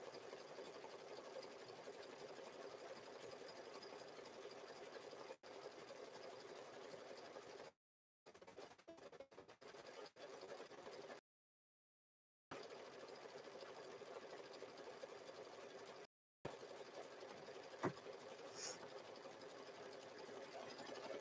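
An embroidery machine stitches out a zipper bag in the hoop, running in long, steady, rapid mechanical hums broken by a few abrupt silent gaps, faint and even throughout.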